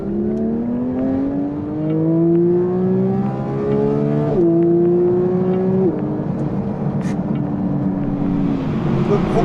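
A Porsche 992 GT3 Touring's flat-six engine revs hard and climbs through several manual gears, the pitch rising in steps between quick shifts, loud and close.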